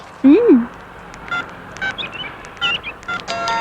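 A few quick electronic tones, like telephone keypad beeps, sound in a short sequence alongside brief snippets of voice.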